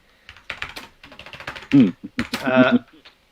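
Fast, furious typing on a computer keyboard, dense bursts of close clicking keystrokes interleaved with someone talking over them.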